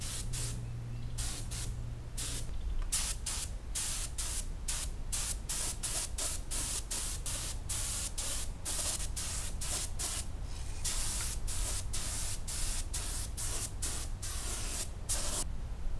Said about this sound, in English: I'm spraying using a little small air compressor, and it sprays just great